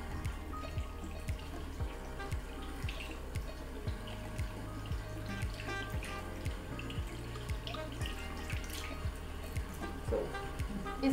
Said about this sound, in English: let me rinse it off with warm water